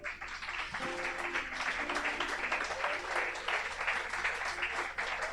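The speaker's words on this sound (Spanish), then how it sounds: "¿Cuánto le dan un aplauso al Señor?" Congregation in a church service applauding, a steady, moderately distant wash of clapping that holds for several seconds, with a voice faintly audible beneath it.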